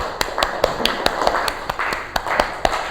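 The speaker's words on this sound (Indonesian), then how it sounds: "Yuk tepuk tangan untuk kita semua." A primary school class clapping together in rhythm, a steady regular beat of sharp claps about four per second, fairly close and clear with little talk.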